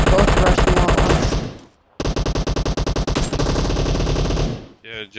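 Rapid automatic gunfire in an online team deathmatch video game, loud and close in sustained rhythmic bursts with a brief pause, and a voice briefly at the end.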